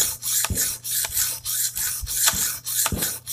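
A cleaver sharpened on a stone, steady rhythmic rasping strokes about every half second, close and fairly loud, with no talking.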